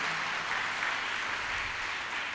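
A church congregation applauds during a sermon, giving a steady wash of many hands clapping together at an even level, moderately loud with no voices over it.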